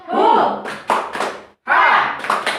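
A group at a training session performs a rhythmic chant with hand clapping, as voices call out in short bursts punctuated by sharp claps, with a brief pause before another chanted phrase.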